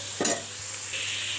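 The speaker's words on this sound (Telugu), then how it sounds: "చూడండి ఇలా వేగుతూ ఉండాలి" Homemade kurkure frying in oil, a soft continuous sizzle with a brief scrape or stir near the start, close by and fairly quiet.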